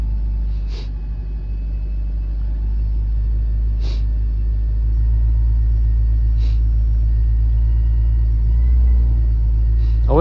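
Freshly rebuilt Honda K20z3 engine in a 2009 Civic Si FG2 being revved gently on a base map, a loud steady low rumble rising slightly, with faint periodic clicks and people talking.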